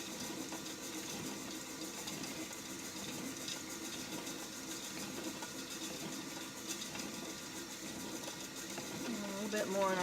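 A stand mixer paddle churns sticky dog biscuit dough with a faint, steady motor whir throughout, growing slightly louder near the end.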